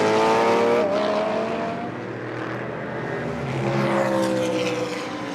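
GT race cars scream through a right-hander at the Moscow circuit of a Blancpain Sprint Series race, loud engines rising and falling in pitch as several cars pass close by in quick succession, heard alone without commentary.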